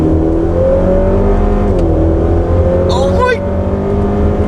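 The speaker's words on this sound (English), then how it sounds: "You can hear the car shifting a lot because it's a 10-speed auto" A 400 hp hybrid-turbo Honda Accord with a 10-speed automatic accelerates hard from a second-gear roll, its engine drone rising loud and close with a quick dip at a gear change, as a voice exclaims briefly.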